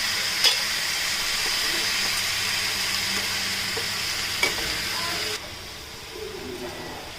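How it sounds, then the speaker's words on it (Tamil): Tomatoes sizzling and being stirred in a hot pan, a steady frying hiss with occasional scrapes, dropping quieter partway through; faint birdsong in the background. "நல்லா கிளறி வதக்கி விடுவோம்."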